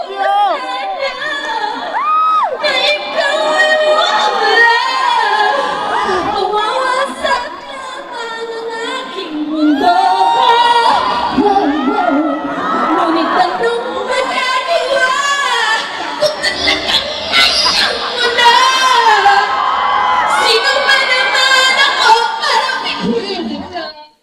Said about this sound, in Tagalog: Lahat talaga sumisigaw, humihiyaw.